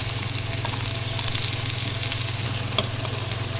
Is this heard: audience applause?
no